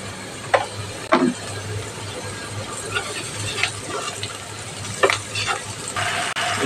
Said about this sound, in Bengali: পেঁয়াজটাকে সুন্দর করে একটু ভেজে নেব